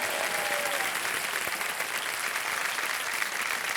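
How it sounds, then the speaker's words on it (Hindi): Studio audience on a quiz show applauding, a dense, steady wash of many hands clapping at moderate distance, continuous with no gaps. "तालियां बज जाए इनके लिए बहुत जोर"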